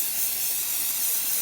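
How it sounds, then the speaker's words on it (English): Continuous close-up hiss of a spray bottle misting ink onto an embossing folder for card making, one steady burst filling the whole moment with no talking. "I'm just going to shake it up a little bit, and I'm going to spray."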